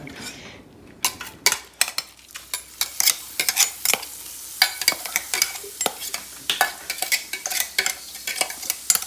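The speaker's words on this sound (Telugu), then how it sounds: "ఇంకా వేడి నూనెలోనే మెంతులు వేసామండి కొంచెం క్రిస్ప్ టెక్స్చర్ అండ్ ఫ్లేవర్ కోసం" Fenugreek seeds frying in hot oil in a home kitchen while mango pickle is being made, a crackling sizzle broken by many sharp spoon-on-pan stirring clinks and scrapes, close and busy throughout.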